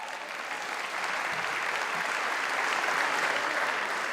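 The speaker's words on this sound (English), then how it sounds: "The people clapping are the ones who work there." Sustained audience applause fills a state government address, a dense, steady wash of clapping from a large room that holds at even loudness throughout, with no talking over it.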